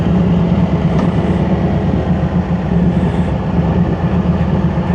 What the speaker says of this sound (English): That is the sound of a Victory 106.